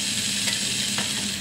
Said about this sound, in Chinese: 现在差不多锅子差不多热了，所以我们就开始下牛肉下去煎了